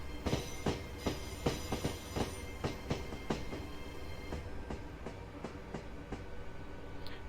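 A Class 800 train in Train Simulator Classic rolls into Saltash station, wheels clicking in a steady, slowing rhythm of sharp rail-joint beats over a continuous low rumble, with no talking.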